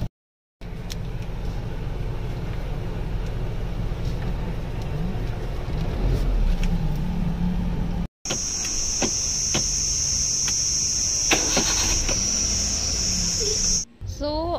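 A car is driven by someone wearing flip-flops, and a steady engine and road rumble fills the cabin throughout, broken by brief cuts, with a high whine and faint clicks in the later part.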